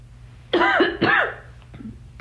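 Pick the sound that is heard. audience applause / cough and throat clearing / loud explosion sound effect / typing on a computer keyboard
cough and throat clearing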